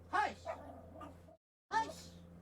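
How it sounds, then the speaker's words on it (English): A dog barks and yips in short bursts, close by, as people talk over the noise while a pizza delivery arrives at home. "You ain't getting any if you keep barking."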